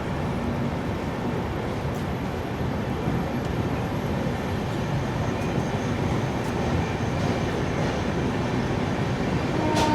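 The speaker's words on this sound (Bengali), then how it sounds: "একদম 5 মিনিট দাঁড়িয়ে আমাদের ট্রেন ছেড়ে বেরাচ্ছে এখন বালেশ্বর রেলওয়ে স্টেশন।" The Howrah–Bangalore SF Express pulls out of platform 2 at Balasore station, giving a steady, loud rolling rumble of wheels and carriages that continues unbroken and with no voices.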